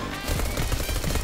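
Rapid automatic gunfire in the online battle royale game Fortnite, a dense, continuous rattle of shots sustained throughout at loud, close range, with no talking over it.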